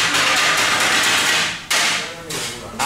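Fast, loud metallic chopping clatters of kottu roti on a hot griddle in Sri Lanka, a dense, rhythmic run pausing briefly before resuming, with faint voices in the background.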